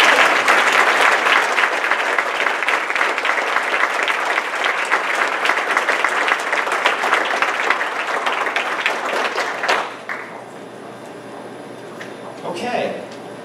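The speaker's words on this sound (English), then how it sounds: "How about one more round of applause?" Applause from the audience at a school board meeting fills a room with dense, sustained clapping for about ten seconds, then stops abruptly, leaving quiet room tone and a brief faint sound near the end.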